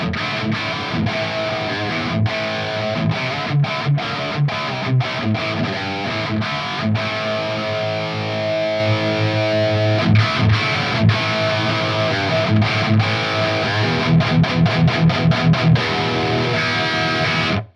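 Electric guitar riffs played through a Mesa Boogie Mark IV amplifier in triode mode, loud and distorted, with sustained chords broken by rhythmic chugging and stops.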